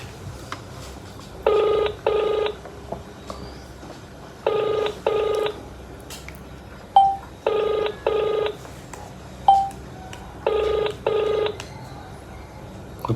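Keypad dialing on a card phone before a prank call, heard as four bursts of paired DTMF tone pairs at steady intervals, loud and clear with faint background noise and no talk.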